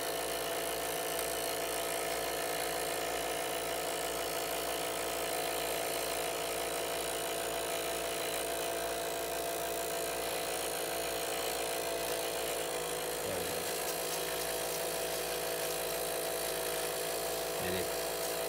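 A Kodak Instamatic M80 Super 8 movie projector motor running forward, a steady, even mechanical whir with a constant hum that holds unchanged throughout, close up and continuous.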